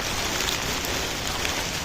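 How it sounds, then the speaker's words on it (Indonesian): Steady rain falling at a campsite in Lembah Mandalaksa, a dense even hiss of drops on surfaces with no pauses, close and constant throughout. "hujan lagi."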